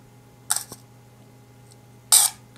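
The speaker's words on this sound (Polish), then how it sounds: "Następnie migawka przylatuje i dodatkowa zasłonka zasłania ekran." A Robot analog camera's shutter fires twice, about a second and a half apart, each a sharp, close mechanical snap with a brief clattering tail, separated by near silence.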